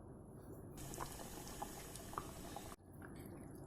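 Paneer simmers in a tomato onion gravy over medium heat, giving a soft, steady bubbling with scattered small pops and a faint liquid fizz, quiet and close.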